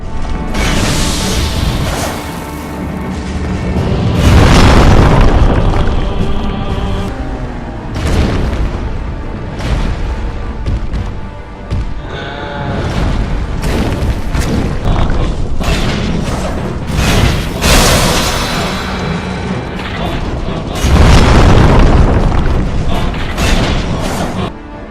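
Heavy weapon strikes on bosses in the video game Demon's Souls, a dense series of loud booming crashes and metallic impacts repeating over a continuous rumble.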